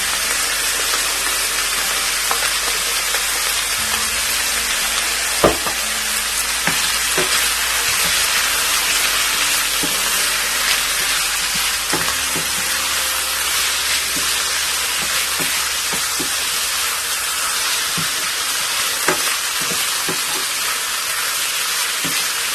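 Chicken with chopped ginger and garlic fries in a pan with a constant loud sizzle and occasional stirring clicks and scrapes throughout.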